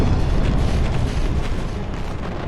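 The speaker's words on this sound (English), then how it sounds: "Fire volley on my designation. Roger. Firing cannons. Brace for impact." Cannon volley explosions in the mech combat game Mecha Knights: Nightmare, a loud, continuous roaring rumble of blasts with heavy low-end boom and no gaps between them.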